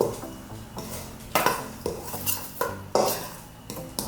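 Spices being mixed into flour and other dry ingredients for pumpkin bread, with repeated close scraping and clinking of a utensil against a bowl in an irregular rhythm, no talking.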